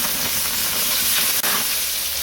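Chorizo sausage sizzles steadily in a hot pan as it is flambéed with brandy, a dense, even frying hiss that holds close and loud with no talking, dipping only for an instant partway through.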